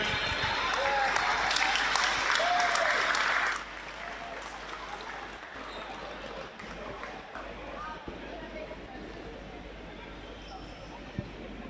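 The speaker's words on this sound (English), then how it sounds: "Big round of applause for Jack." Spectators applaud a basketball award winner at a men's Premier League grand final in the ACT, a loud wash of clapping for several seconds that drops abruptly to a low crowd hubbub with occasional thuds.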